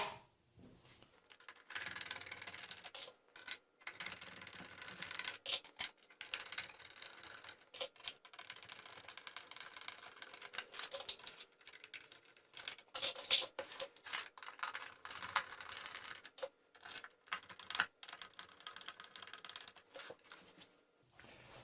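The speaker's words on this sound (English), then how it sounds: "what you're going to do is install these longer screws in each of the spots" Longer screws are driven into the bottom of a Slim PS3 console, faint close clicking, ratcheting and scraping in irregular bursts with short pauses, no talk.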